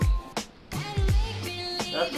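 Canned chili slides out of the can into a pan for a grilled cheese, making a few close, wet, low squelching plops and slurps, with faint clatter and nobody speaking.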